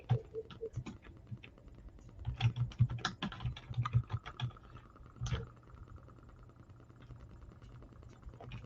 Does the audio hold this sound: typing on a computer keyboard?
yes